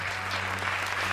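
An audience at a live Hindi comedic poetry show claps continuously, a dense, steady burst of applause over a low steady hum.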